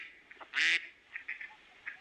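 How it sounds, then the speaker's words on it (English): A toy duck gives one loud, short quack, standing alone against a quiet background with only faint scattered chirps. "Lionel the duck."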